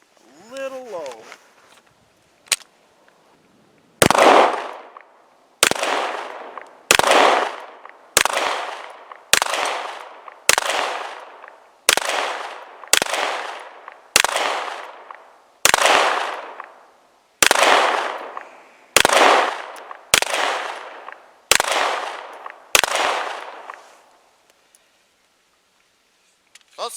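Zigana Model F 9mm pistol fired at an outdoor range: about fifteen loud, sharp shots in a steady, unhurried string, each followed by a short ringing decay, with a brief quiet lead-in before the first shot.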